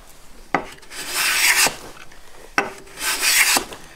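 A Woodriver block plane cuts a small chamfer into eastern maple end grain. Two distinct strokes each start with a sharp catch, followed by a rising shaving hiss and an abrupt stop, close and alone.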